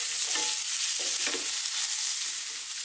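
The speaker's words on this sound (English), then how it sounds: "And on a high heat, stir frying all the way." Onions stir-frying in a hot pan over high heat, a steady loud sizzle with intermittent scraping and tossing stirs throughout, no talking.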